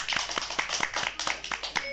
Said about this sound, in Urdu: فبیہ کے لیے ایک دفعہ پھر زوردار تالی